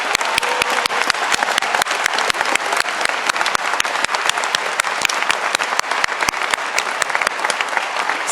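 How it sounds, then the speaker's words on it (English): Applause from an audience at a memorial tribute, sustained and loud, with sharp individual claps standing out over a dense, even wash of clapping. "We get an applause from you guys."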